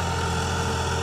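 A New Holland 5620 tractor engine runs steadily at close range with a continuous, even drone and no break, while no one speaks.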